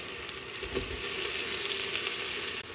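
Onions frying in a pan with salt and turmeric, giving a steady close sizzle throughout with a brief stirring scrape partway through and no voices.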